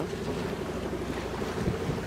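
A sailboat's motor drones steadily at sea with no sail up, a continuous low rumble mixed with wind buffeting and wave wash, loud and unbroken.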